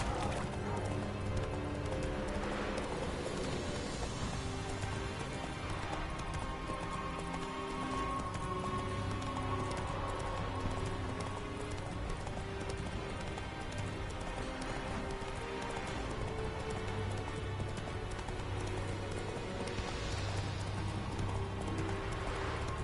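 Roach the horse galloping in The Witcher 3, a steady run of hoof clip-clops that stays close and even throughout, with rain pattering and a game soundtrack underneath.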